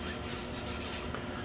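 Steady hand rubbing on the fabric covering of an RC Sopwith Camel model plane, pressing it down to reactivate the adhesive; a continuous close, dry, scratchy friction that holds an even level the whole time.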